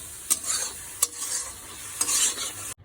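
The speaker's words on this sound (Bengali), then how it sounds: "এদিকে যে মশলাটা কষিয়ে নিচ্ছি লবণ হলুদ সবই দিয়ে দিয়েছি" Spice masala with salt and turmeric frying in a pan gives a steady close sizzle, broken by a few sharp scrapes of stirring.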